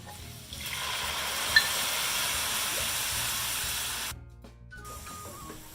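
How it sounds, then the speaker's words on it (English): Sherry poured into a hot pan to deglaze it, giving a steady broad hiss and sizzle that rises quickly and holds, then cuts off abruptly near the end before a softer bubbling resumes. "I'm going to do 2/3 of a cup of sherry to deglaze the pan."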